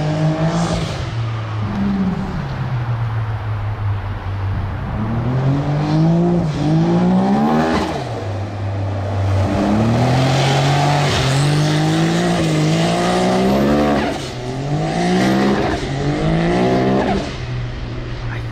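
The Beast Mode X3 car roars through loud burnouts, its engine revving up and down in repeated surges over a constant screech of spinning tires.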